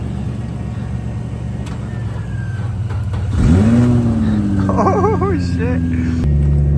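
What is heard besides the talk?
truck engine starting and revving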